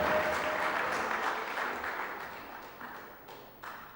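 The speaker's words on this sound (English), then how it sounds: "the home crowd cheer him to the rafters" A home crowd at a 1994 Mosconi Cup pool match bursts into loud, sustained applause and cheering after the opening rack is won, the clapping slowly thinning and fading with a few late bursts.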